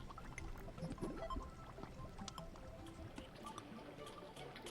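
Lava and water pour continuously inside Terraria while an obsidian farm is being built, giving a steady liquid wash with small splashy drips, at a fairly low level throughout.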